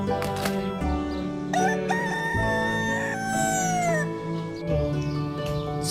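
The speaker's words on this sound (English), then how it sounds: "This is rooster." A rooster crows nearby in a long, drawn-out call with rising and falling pitch, set among other clucking and bird sounds.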